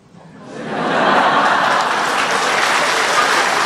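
An audience at a Buddhist Dhamma talk breaks into applause that swells within a second into loud, sustained clapping, with a few chuckles mixed in.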